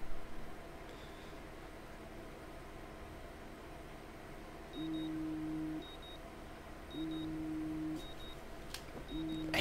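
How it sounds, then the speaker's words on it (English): An alarm ringing in the video game Life Is Strange, repeating electronic beep tones in short, evenly spaced bursts over a faint hiss. "I hate alarms."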